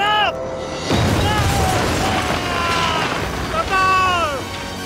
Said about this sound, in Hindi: एक और धमाका होने वाला है।